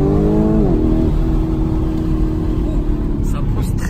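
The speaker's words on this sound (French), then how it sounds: "J'espère que vous avez apprécié la sonorité du V8." Lamborghini Urus SUV with a V8 engine, a loud steady engine drone that climbs in pitch as it accelerates, then holds a sustained roar with cabin noise throughout.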